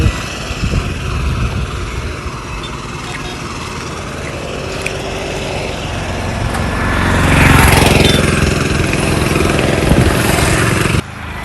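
A scooter passes close by, its engine note rising to a peak about two-thirds of the way through and then dropping away over a steady background hum.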